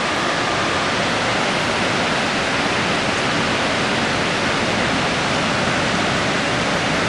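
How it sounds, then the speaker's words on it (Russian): A waterfall near a salmon-fishing river, a loud dense roar of rushing water, steady and unbroken, close and alone with no voices. "Это водопад."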